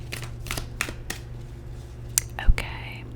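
Tarot cards shuffled by hand in a quiet room during an ASMR reading, giving short crisp riffling bursts and soft slides and taps, close and gentle, with faint whispering around them.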